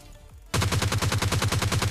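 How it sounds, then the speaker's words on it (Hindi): Rapid automatic gunfire from the video game PUBG Lite, a loud, close, evenly spaced burst of shots that cuts in abruptly after a quiet moment and keeps going steadily to the end. "सामने वेयर हाउस की साइड से कुछ गन साउंड्स आते हैं"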